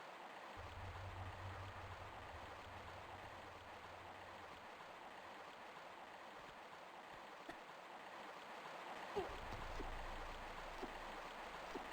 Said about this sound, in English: That takes you down the waterfall.